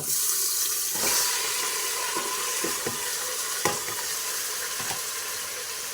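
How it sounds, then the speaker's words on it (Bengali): Marinated meat hits hot oil with whole spices (cinnamon, cardamom and cloves) in a pan, producing a loud, continuous sizzle broken by a few sharp clicks and scrapes from stirring. "তারপরে দিয়ে দেব মেরিনেট করা মাংস"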